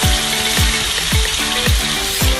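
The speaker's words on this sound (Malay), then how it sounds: "Biarkan bahan-bahan yang dikisar itu tumis sehingga masak." Blended spice paste sizzles and crackles steadily in hot oil in a wok, with a regular scraping stir repeating about twice a second, close up.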